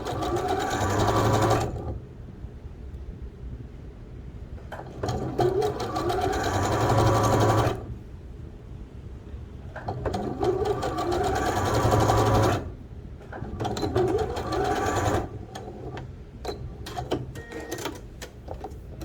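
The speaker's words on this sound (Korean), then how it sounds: "바이어스 원단은 살짝 당겨가며 박음질 할게요." A sewing machine sews bias tape onto the pocket opening of harem pants in three long, steady runs separated by pauses. The whirring is close and even, with faint handling sounds between runs.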